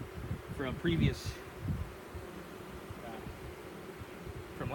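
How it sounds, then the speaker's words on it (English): Honeybees hum in a soft, steady drone close by in a hive with pulled comb, with occasional rustling and faint movement sounds in the background. "there are lots of bees in here"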